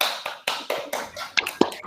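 A handful of quick, uneven claps and taps ring out nearby from a school class, a short scattered burst of hands clapping.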